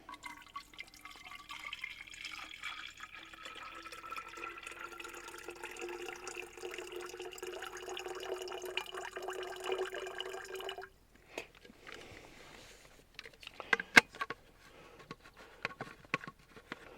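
Twelve ounces of water pour in a steady stream for about eleven seconds, the pitch rising as the container fills, then a few drips, knocks and small clatters follow in a quiet setting.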